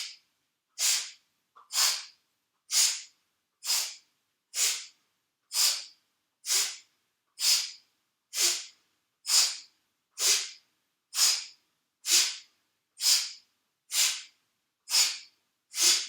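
Deep breaths during a yoga nidra breathing exercise, about sixteen evenly spaced strong airy inhalations or exhalations repeating roughly once a second, close and alone in otherwise silent surroundings.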